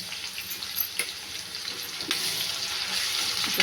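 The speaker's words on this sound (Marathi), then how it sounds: "याला पण फ्राय करून घेऊया." A ground paste of onion, tomato, garlic, ginger and coriander frying in a pan, a close continuous sizzle and hiss with a few stirring scrapes, no voices.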